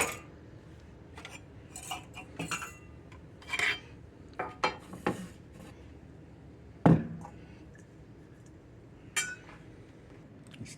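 A percolator's inside gets wiped out after cleaning with baking soda and vinegar, making intermittent rubbing and scraping with scattered metallic clinks and one sharper knock, close and fairly quiet with pauses between strokes.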